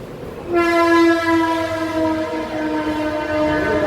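A loud train horn blares for a few seconds over the rumble of a train passing close by.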